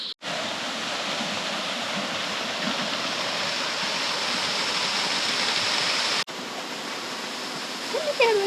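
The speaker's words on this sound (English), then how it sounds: "waterfall in the distance" Steady broadband rush of a waterfall heard from a distance in an Australian forest, a continuous even wash that briefly cuts out near six seconds, with a faint bird chirp near the end.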